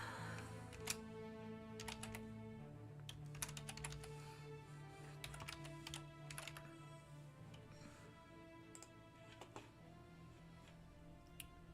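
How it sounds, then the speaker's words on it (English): Quiet keystrokes clatter on a computer keyboard in irregular bursts of clicks, close and faint over a steady low hum, with no talking. "Let's claim these. Oh, let's type this in."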